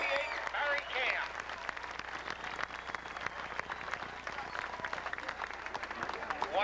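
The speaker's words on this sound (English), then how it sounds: "let's give him a big round of applause" Crowd applause and cheering in victory lane at Port Royal Speedway for the winning sprint car driver of the Main Jinx Racing 88, a steady dense clapping that fills the whole stretch, with voices mixed in.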